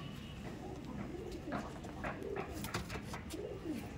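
Pigeons coo in low, rolling phrases close by, with a few brief higher bird calls mixed in over a steady background hum.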